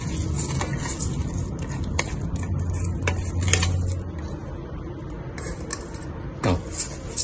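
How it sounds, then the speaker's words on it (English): Rinsed rice pours into an oiled rice cooker pot for lemongrass-oil rice, making a close, continuous grainy rattle and clatter against the metal, followed by a few sharper knocks near the end. "Put in the rice that you have just rinsed."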